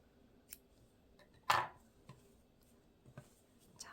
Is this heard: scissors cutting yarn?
yes